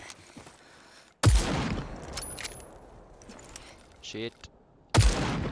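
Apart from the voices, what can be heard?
Gatling gun fire from enemy soldier in video game Super People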